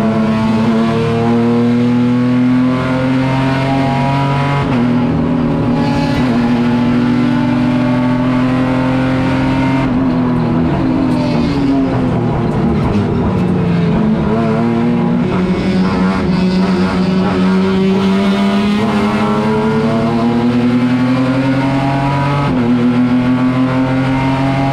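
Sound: race cars speeding through turn 1 at Tarumã circuit

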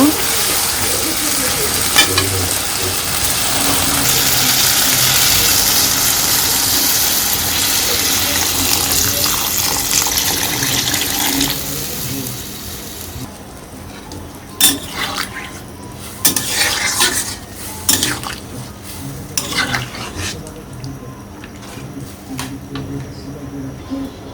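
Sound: stirring vegetable curry in a pan, adding a little water

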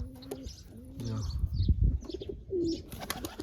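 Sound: young pigeon flapping wings while handled

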